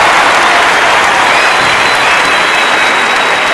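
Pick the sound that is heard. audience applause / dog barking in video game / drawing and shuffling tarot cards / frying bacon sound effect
audience applause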